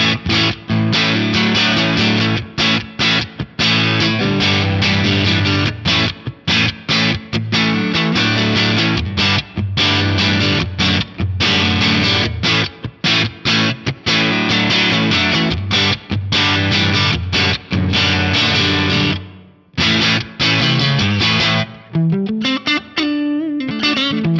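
An electric guitar plays loud, sustained chords through an Axe-Fx III Deluxe Reverb amp model at stock settings with a pulsing vibrato, briefly dropping out near the end before ringing again.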